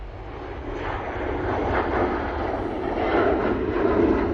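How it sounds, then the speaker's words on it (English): Finnair Embraer E190 jet departing for Helsinki produces a rumbling engine roar that builds gradually, close and fairly loud, continuous throughout without any voices. "Will be this Finnair going back to Helsinki."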